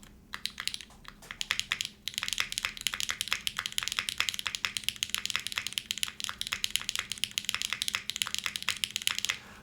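Mechanical keyboard typing on a Keycult No.2/65 with a test spacebar: a fast, steady run of crisp, close keystroke clacks running for the whole stretch, with no talking.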